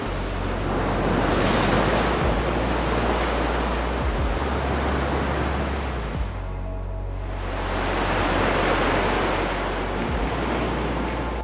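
Ocean waves and surf roll in at Petrel Cove, South Australia, a broad, steady roar of whitewash that swells and eases across two surges, with low wind rumble and no voices.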